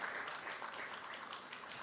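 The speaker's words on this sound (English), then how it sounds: "You can clap for that, you can clap for that." Audience clapping at a Caribbean Broadcasting Union media awards gala in Barbados, a continuous even patter of many hands, faint and distant throughout, no speech over it.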